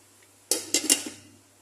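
A metal lid set onto a cooking pot of zucchini, eggplant and chicken gives three quick clanks and a short rattle, close and crisp, then fades into quiet.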